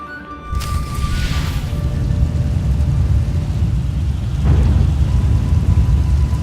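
Steady heavy rain with a low rumbling storm bed in Star Wars: The Old Republic, continuous and fairly loud throughout, swelling slightly near the end, with no voices.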